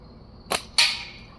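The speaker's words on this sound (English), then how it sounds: "Shooting these little 1/4 inch steels with this guy." Two sharp snaps from a G10 layered slingshot firing 1/4 inch steel balls, the second louder with a short ringing tail and a faint high tone lingering between shots, no talking.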